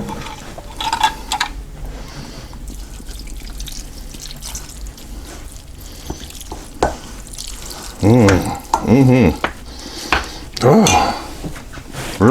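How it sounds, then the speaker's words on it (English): Seasoning being worked by hand into ground pork in a bowl for homemade sausage, with soft wet squelching and intermittent splashy, dripping bursts close to the microphone, some louder clusters toward the end. "I'm gonna mix that seasoning in through here"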